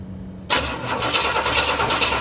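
A 1970 Cadillac convertible engine, buried for twenty years and with points needing adjustment, cranks loudly after a brief quiet start, the starter churning steadily without catching.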